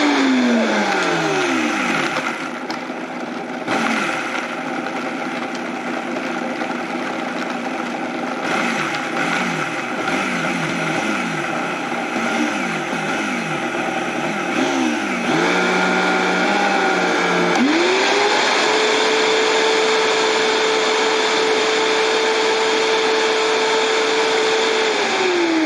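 Blender grinding crushed dried pickles into powder in a jar, loud whirring motor in repeated short pulses with rattling pieces, then a long steady high whine as it runs continuously, with no talk.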